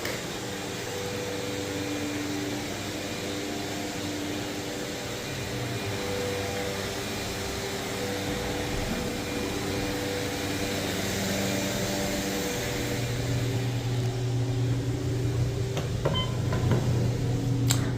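Otis Elevonic 411 traction elevators at the Ritz-Carlton run with a steady, droning machine hum and faint whine. A few soft clicks near the end may come from the doors.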